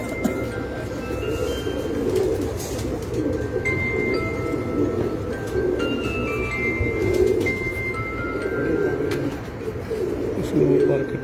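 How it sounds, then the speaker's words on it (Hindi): Rosepuri and Kamagar cross pigeon cooing on a rooftop, repeated low throaty coos rising over a busy background, with people talking nearby and faint chirps above. "ये कबूतर है जी मेरा रोजपुरी और कमकगर क्रॉस"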